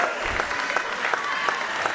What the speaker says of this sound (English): Kalea's getting a nice round of applause coming off the bench